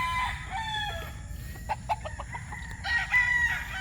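Young gamecock stags crow and cluck at a moderate distance, several short overlapping calls followed by a clearer crow near the end, over a faint background hum.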